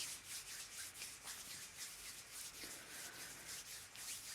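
Palms of a music class rubbing together to imitate a rainstorm, a steady, close hiss with soft rhythmic swishes running throughout and no talking.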